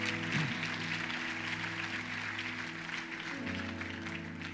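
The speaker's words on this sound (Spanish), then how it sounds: "Dale un aplauso al Señor" Church congregation applauding at the close of a prayer, a steady wash of clapping held over a sustained musical drone of organ or keyboard chords that shift partway through.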